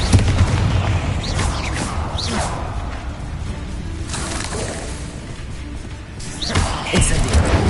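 Hogwarts Legacy fire spell Incendio cast repeatedly in the video game: loud whooshing bursts and booming impacts over a dense, continuous rumble, with sharper flare-ups near the start and again toward the end.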